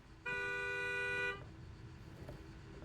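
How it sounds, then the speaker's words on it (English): A single long car horn blast, loud and steady for about a second, cutting off abruptly and leaving quiet background rumble. "Honking your horn at me."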